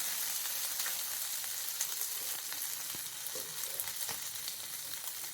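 Chicken pieces roasting in a hot pan for Chicken Kalmas, giving off a steady, moderately loud sizzle and crackle with faint occasional pops and stirring clinks, no voices.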